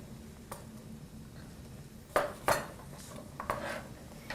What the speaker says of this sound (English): So I'm just going to dice that up a little bit.